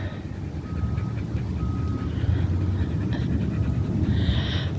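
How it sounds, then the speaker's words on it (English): A dog pants steadily and rapidly in a dog park, close and continuous, with faint beeping and passing traffic in the background and no speech. "This dog will sniff every square inch of this dog park"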